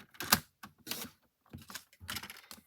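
A 1-inch strip of cardstock is cut for a tower card, with several short crisp snipping and sliding sounds in uneven bursts, close and fairly quiet with pauses between.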